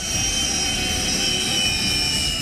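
A US B-1 bomber takes off with a loud, continuous jet-engine roar and a high whine layered over it, sustained without a break.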